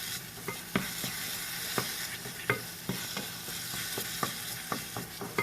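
Jaggery powder melting in a frying pan is stirred with a spoon, giving a steady sizzle punctuated by frequent rhythmic scrapes and taps against the pan, close and clear with no voices.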